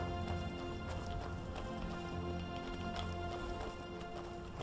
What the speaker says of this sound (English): And a stray horse